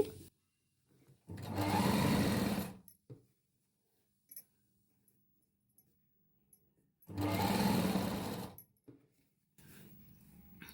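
Two separate bursts of a sewing machine stitching piping onto a blouse, each a loud, steady whir lasting about two seconds, with quiet pauses and faint handling clicks between them.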